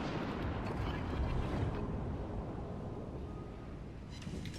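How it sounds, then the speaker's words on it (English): Warship guns firing in the World of Warships Legends naval video game, a deep rumbling boom that swells and slowly fades over a few seconds, moderately loud with a low continuous engine drone beneath. "So if I lock my guns, say, there and open fire,"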